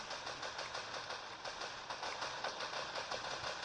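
A vehicle engine in a shooting video game chugs with a quick, regular pulsing rhythm, fairly quiet and steady throughout, with no talk over it.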